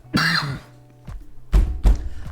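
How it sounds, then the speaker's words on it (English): Several short, harsh coughs close to the microphone, one near the start and a pair of louder ones toward the end, with quiet pauses between. "I wish I could stop coughing all of the time."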